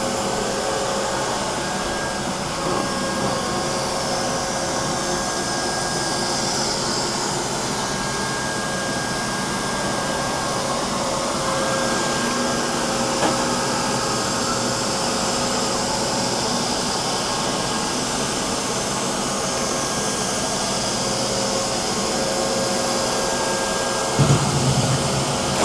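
A Neato Botvac robot vacuum cleaner runs close by with a continuous whirring, airy hum that stays steady and unbroken throughout.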